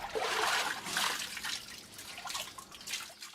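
Water drawn from a well and poured through a sieve, trickling and dripping steadily for a few seconds, close and fairly clear, with no talk over it.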